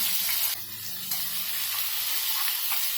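Onion dropped into hot oil with cumin, mustard seeds and asafoetida, giving a loud, steady crackling sizzle that holds for a few seconds with no voices.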